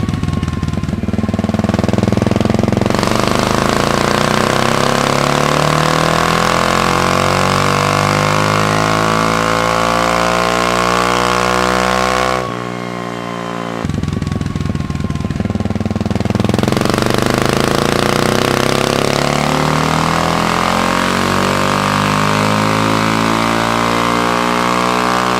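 A Honda XR650 motorcycle with a bigger jet and uncorked exhaust runs hard on a dyno, its engine rising in a long loud rev sweep, dropping briefly, then winding up again in a second pull, no voices.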